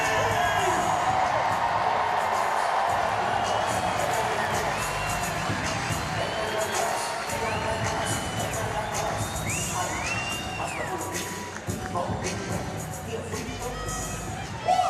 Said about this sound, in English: give a round of applause for your 2026 NCAA National Champion Women's Basketball Team